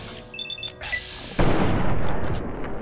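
A hunting shotgun fires in Fallout 3, a video game: a brief melodic game tone, then one loud, booming blast whose rumble carries steadily for over a second at close range, with no talk.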